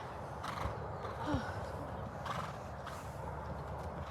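Horse moving during a riding lesson in an outdoor arena, soft hoof thuds with a brief faint whinny, distant and low in level with ambient noise and no clear talk.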